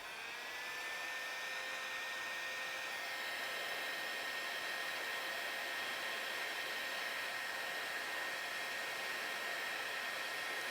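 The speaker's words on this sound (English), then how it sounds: "you could use a heat gun." A heat gun blows hot air in a steady, even rushing whine with a faint tonal hum, starting up and then holding constant for about ten seconds with no talk.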